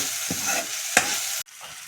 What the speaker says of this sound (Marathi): चांगली परतून द्यायची फोडणी पुन्हा ही